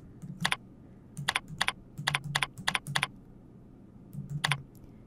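Typing on a computer keyboard while entering an email address into a call center dashboard: close, crisp clusters of key clicks in short bursts separated by brief pauses, with no speech.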